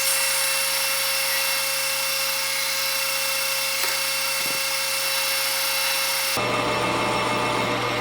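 A letter H drill bit, 266 thou, bores into a machined part for a Kobalt 3332643 air compressor regulator, giving a steady close mechanical whine that grows harsher and noisier near the end.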